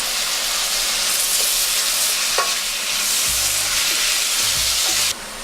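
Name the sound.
stirring tomato into frying shrimp curry in a pan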